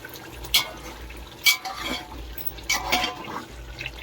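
Chicken simmering in a pot for biryani, with bubbling and liquid sloshing, a few sharper splashes or stirring scrapes standing out over a low steady background, close and moderately loud.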